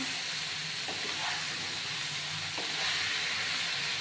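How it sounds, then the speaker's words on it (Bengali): Spices and cabbage fry in a pan for a Bengali vegetarian cabbage ghonto, giving a steady close sizzle and hiss with a couple of soft stirring scrapes. "মশলা ভাজা হয়ে গেছে সেই সঙ্গে বাঁধাকপিটা অনেকটা মজে গেছে"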